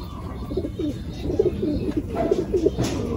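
Pigeons coo repeatedly in low, throaty bursts at close range, with soft rustling behind them and no talking over the calls.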